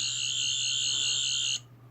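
Doctor Who sonic screwdriver toy sounding its effect after a button press: a loud, steady high-pitched electronic whine held for about a second and a half, then cut off abruptly, leaving a faint low hum.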